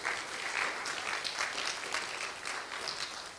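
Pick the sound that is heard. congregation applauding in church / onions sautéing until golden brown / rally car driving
congregation applauding in church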